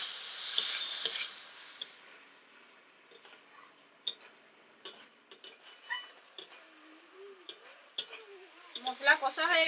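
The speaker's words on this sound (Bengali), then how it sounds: "মশলা কষা হয়ে গেছে" Spices and masala sizzle softly in a pan while being stirred, with scattered clinks and scrapes of a utensil; a voice talks over parts of it.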